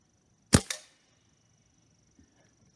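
A single sharp shot from a Stoeger A30 air rifle loaded with Gamo Match 7.56 grain pellets, a close crack followed by a quick second snap of impact, then near silence with a faint click.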